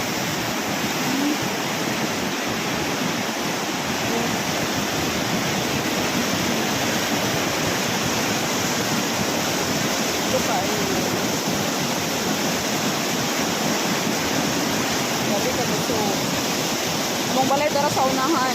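Rushing flood water after heavy rain sweeps past homes in a Philippine village, a loud, dense, continuous roar that holds steady and unbroken from start to finish.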